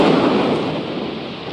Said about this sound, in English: Did he get tracked by lightning?